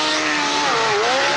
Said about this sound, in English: Watch as this Mercury approaches a sandbar.